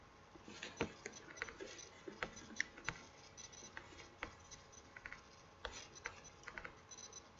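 Chalk or marker tapping and scratching on a classroom board, a series of faint irregular clicks and short strokes in quick succession, quiet and close with little else around.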